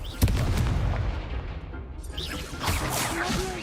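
A Confringo fire spell from Hogwarts Legacy, played on Hard, goes off as a sharp explosive blast near the start. Crackling, rumbling battle noise follows, and a voice speaks over it.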